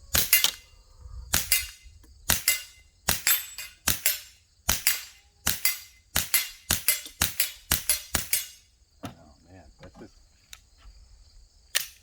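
A handgun being test fired, about a dozen sharp, loud shots in a quick uneven series with brief echoes, then a quieter stretch of faint rattling handling noise.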